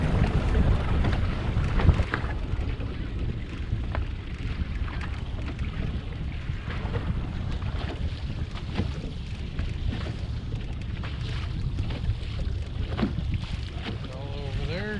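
Fishing boat on the Detroit River turning back over the same spot, a steady engine and hull wash with wind rushing over the microphone throughout, continuous and fairly loud with no clear talk.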